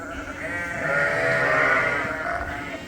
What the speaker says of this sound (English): These are the weaned Suffolk ewes, the ones that are gonna be staying on here.